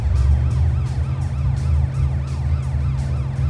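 Police sirens in the video game Driv3r, several wailing tones sweeping up and down in overlapping cycles over a loud, steady low engine rumble, continuous and close.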